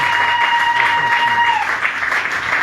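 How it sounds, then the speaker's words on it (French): A church congregation bursts into dense, loud applause with cheering voices, a sustained wash of clapping that continues for the whole stretch. "Acclamons plus fort pour la gloire du Seigneur."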